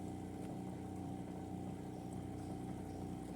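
A vehicle's autonomous heater motor runs at emergency revs, giving off a steady, even droning hum with a constant pitch and no talking over it.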